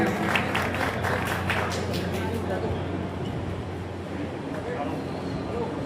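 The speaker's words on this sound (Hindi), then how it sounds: "जोरदार तालियों के साथ स्वागत करें" Rally crowd applauding in welcome of a Congress MLA from Pilibhit at a party election meeting, a steady dense wash of clapping sustained throughout with a low hum beneath and voices mixed in.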